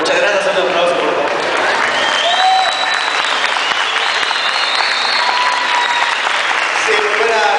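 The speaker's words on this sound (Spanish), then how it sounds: "Muchas gracias, un aplauso por favor." Loud, sustained applause from a large audience at a Comic Con presentation in Guatemala, steady dense clapping with crowd noise throughout and occasional whistles.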